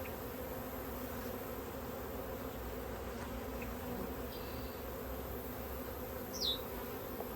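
Honeybees drone inside a hive, a constant dense low hum of many wings close by, with a single brief higher zip near the end.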